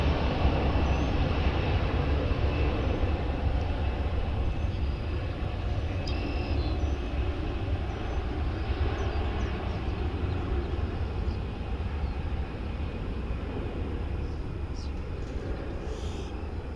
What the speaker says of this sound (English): This Delta flight is wasting no time in getting off the mark.